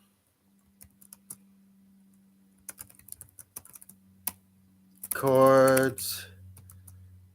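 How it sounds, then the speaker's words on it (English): Computer keyboard typing, scattered quick clicks and short bursts of keystrokes in a quiet room, close and fairly faint, with a person briefly speaking near the end. "Sorry about the typing sound."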